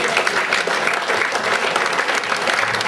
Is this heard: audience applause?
yes